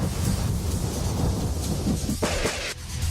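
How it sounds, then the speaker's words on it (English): Thunder and rain sound effect: heavy rain hisses steadily under a rolling rumble of thunder, with a sharper crack partway through. "lightning strikes."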